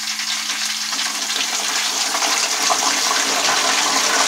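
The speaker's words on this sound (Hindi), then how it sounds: "अब मैं इसमें ये नमक का पानी डालूंगी थोड़ा सा।" Salty water is splashed into hot oil where thin banana chips are frying, setting off a loud, dense crackling sizzle that swells and holds steady at close range, with no voices.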